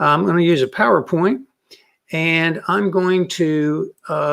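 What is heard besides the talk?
No everyday noise stands out behind the speech.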